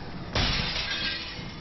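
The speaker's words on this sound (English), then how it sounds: "I hear some glass shattering." In the video game Aliens: Colonial Marines, glass shatters with one sudden loud crash. Bright debris keeps scattering for about a second after the break, and no voice is heard over it.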